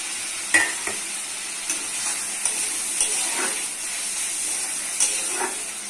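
Tomato fries in a spiced masala paste for an okra, potato and egg curry, giving a steady close sizzle and hiss broken by several sharp spatula scrapes and taps against the pan.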